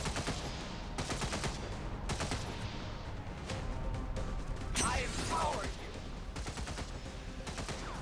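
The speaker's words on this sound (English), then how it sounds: "There's that return fire" Gunfire bursts in the XCOM 2 War of the Chosen video game: repeated volleys of loud automatic shots crackle in clusters across the scene, with a sharp crash-like impact partway through.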